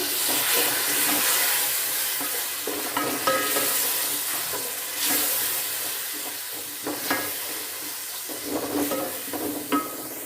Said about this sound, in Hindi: अब इसमें हम टमाटर डाल लेंगे और इसको हम अच्छे से मिक्स कर लेंगे।